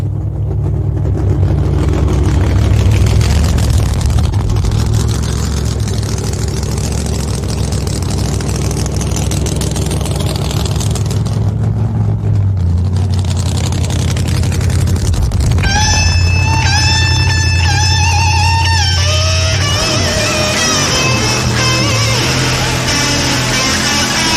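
Nitrous drag racing cars with fiberglass bodies running down the strip, a loud sustained engine roar rising and shifting, followed by sharp high-pitched whines, with a crowd faintly under the noise.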